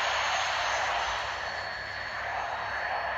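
Heavy, ungainly planes in the video game Macross Delta Scramble give off a continuous droning engine roar that holds steady and fairly loud, swelling slightly and easing back without any voices over it.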